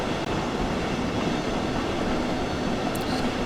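A BR 143 electric locomotive pulls away in Train Sim World 5, a steady rumbling roll of wheels and motor noise, continuous and fairly loud with no talking.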